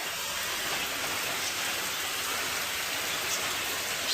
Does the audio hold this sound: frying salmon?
no